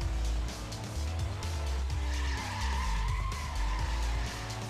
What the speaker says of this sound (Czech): Tady vidíte prostě epický drift.